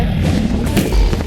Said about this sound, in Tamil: நான் வச்ச பெட்டு மட்டும் தானே வெடிச்சது.